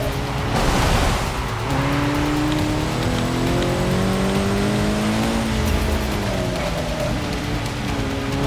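Car sliding through a turn in a sim racing game, with a continuous engine drone and rising, wavering squeal tones running steadily for several seconds, loud and without speech.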